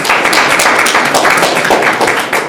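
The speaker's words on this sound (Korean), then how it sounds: "큰 박수로 맞이해 주시기 바랍니다." A forum audience at the 2022 K-Modular Construction Forum applauds to welcome the next speaker, a dense, steady wash of many hands clapping throughout.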